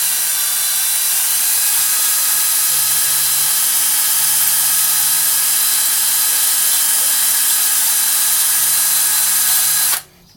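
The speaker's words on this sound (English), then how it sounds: "a little grinding wheel that you can put in your drill" A small rotary drill whines steadily with a small grinding wheel spinning while cleaning lawn mower parts, a continuous high buzz that runs unbroken before cutting off abruptly near the end.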